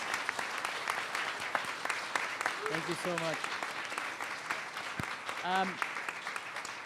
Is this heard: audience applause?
yes